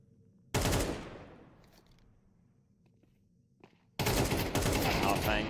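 AK rifle fire in Counter-Strike: a sudden loud burst that rings out and fades, faint footsteps and clicks, then another sustained loud burst of automatic fire.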